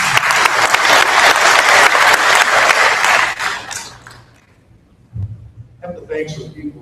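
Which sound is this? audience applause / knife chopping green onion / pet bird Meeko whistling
audience applause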